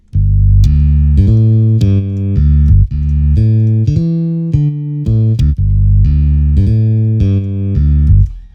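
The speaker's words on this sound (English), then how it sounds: "I just laid down this bass line." A loud, deep bass line of sustained notes moving in a steady beat, with sharp plucked attacks, played alone and close up.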